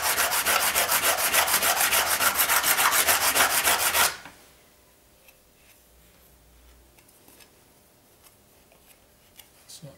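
A cabinet scraper being sharpened to raise a burr on its edge, heard as about four seconds of loud, rapid back-and-forth rasping strokes that stop abruptly, leaving faint handling clicks and scuffs.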